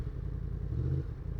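A 2024 Yamaha MT-10 motorcycle engine runs nearby in a short, low, throbbing burst that swells slightly midway and then settles back, with no talking.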